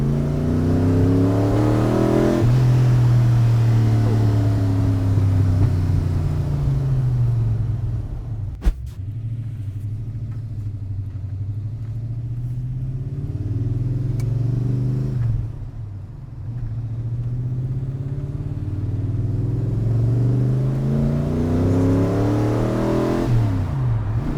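A Ford GT40's mid-mounted V8 rumbles close by, climbing through repeated revs and gear changes with a deep, throaty growl, easing off briefly twice before pulling hard again, with no talk over it.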